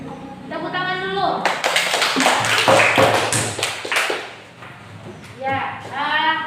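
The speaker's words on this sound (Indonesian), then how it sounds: "tepuk tangan dulu" Students in a classroom clap together in a dense, loud burst of applause lasting several seconds, with voices talking before and after it.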